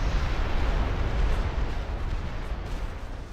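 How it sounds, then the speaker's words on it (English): Rattling gunfire from a Warhammer strategy battle between Tzeentch, Skaven and Dwarf armies, a dense continuous barrage of rumbling shots and bursts that stays loud through the whole stretch with no voices. "His rattling guns are doing a number on me."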